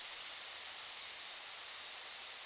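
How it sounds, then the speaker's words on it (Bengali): Frying in ghee in a wok while making carrot halwa, heard as a faint, even, continuous hiss with no clear pops and no voices. "এটাকে ঘিয়ের উপরে এক মিনিটের মতো ভেজে নিব"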